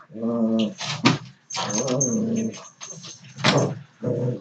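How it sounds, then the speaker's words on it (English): Dogs growl and whimper in bursts close by, with sharp yips breaking in between the longer rumbling, whiny stretches. "My dogs are being annoying."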